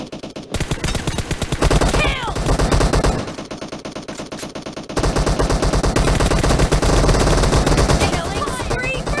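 Gunfire from the video game PUBG, with loud, rapid automatic bursts repeating almost continuously and a brief lull in the middle, sharp and close.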